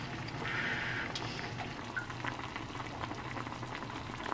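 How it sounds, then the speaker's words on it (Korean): A pot of kimchi stew, made without green onion or onion, bubbles and simmers softly on the stove with a steady, quiet seething texture and a few tiny pops, and no voices. "김치찌개가 지금 거의 다 돼가고 있어."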